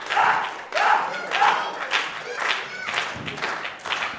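Crowd applauding at a wrestling match, a series of rhythmic bursts of clapping and thuds rising and falling about every half second, moderately loud, with some voices mixed in.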